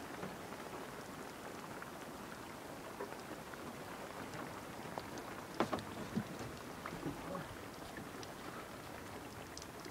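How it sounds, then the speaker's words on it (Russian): Soft, steady patter of spring rain on surfaces in Ukhta, Komi, Russia, faint and continuous, with a few slightly louder drips partway through. "Это дождик."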